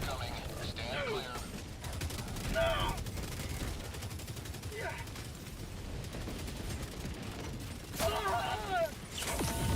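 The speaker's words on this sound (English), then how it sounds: "Orbital barrage incoming. Stand clear." An orbital barrage striking in Helldivers 2, with dense, rumbling bursts of gunfire and explosions that swell and repeat across the stretch, mixed with scattered mechanical clanks and brief voices in the background.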